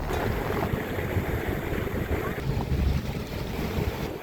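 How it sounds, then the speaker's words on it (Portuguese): A speedboat crosses calm water near Cairu, a steady engine and hull rumble mixed with wind buffeting the microphone, continuous and fairly close. "A lancha rápida corta o espelho d'água"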